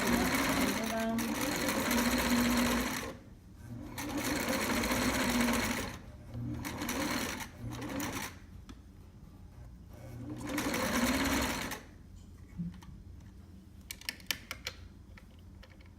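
A sewing machine stitches a fur trapper hat in several bursts of rapid, close whirring and ticking, pausing between runs, with occasional speech in the gaps.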